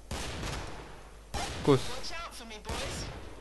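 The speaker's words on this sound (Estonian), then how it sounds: "keegi laseb ilutulestiku" Fireworks going off in the Killing Floor game, sharp crackling bursts that come in a few separate clusters, with someone talking between and over them.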